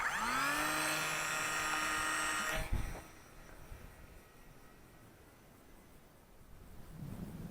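Small electric motor on a Dancing Wings J3 FireBird Cub, a sub-100g RC plane with a 600mm wingspan, whines loudly at launch for about three seconds and then cuts off abruptly, leaving faint wind noise.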